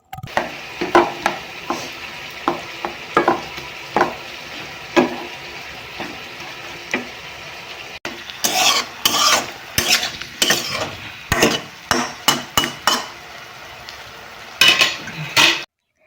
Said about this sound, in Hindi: तो मैं अच्छे से मिलाऊंगी, गूनूंगी थोड़ा टाइम के लिए